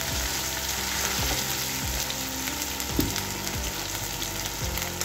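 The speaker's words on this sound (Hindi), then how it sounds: "अच्छी तरह से इसको पका लेंगे अदरक लहसुन को" Ginger garlic paste fries in a pan with a continuous, loud, close sizzle, broken by periodic scraping stirs of a spoon against the metal, with no talking.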